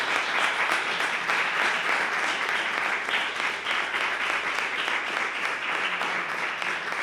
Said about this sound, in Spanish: Pues damos otro aplauso a Agustín.